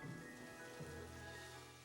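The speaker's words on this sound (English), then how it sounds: "Only clouds can create soft, gentle raindrops." Kohler Real Rain shower water falling as soft, gentle raindrops, a steady close patter spreading evenly with no voices.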